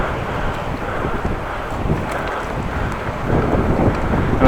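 Strong wind buffets the microphone during a blustery morning ride on a Dutch bike, a loud continuous low rumble that swells louder toward the end, with no voices.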